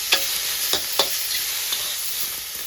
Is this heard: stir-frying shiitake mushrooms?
yes